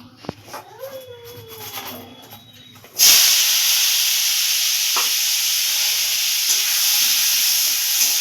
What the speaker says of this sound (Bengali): দিয়ে এটাকে আমি হালকা লাল করে ভেজে তুলে রাখবো